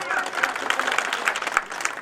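A crowd claps steadily for an honoured guest at a family's welcome ceremony, the dense applause sustained and fairly loud throughout.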